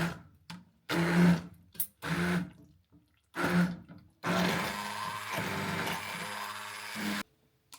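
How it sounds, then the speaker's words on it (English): A hand blender blending applesauce whirs in bursts, short pulses at first and then a long steady run of several seconds before cutting off, loud and close. "take the hand blender and blend these"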